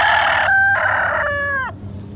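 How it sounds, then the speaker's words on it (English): A rooster crows in two drawn-out, loud calls close by on a farm, with busy chickens clucking and squawking in the background throughout. "from noisy chickens"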